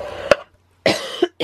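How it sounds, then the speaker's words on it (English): A person coughs in a few sharp, close bursts: one single cough, then a pause, then a quick double cough followed by another. "just started coughing as soon as I came on video"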